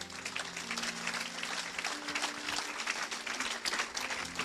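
A church congregation bursts into sustained applause, dense steady clapping filling the space for several seconds, with faint voices and a low held musical tone underneath.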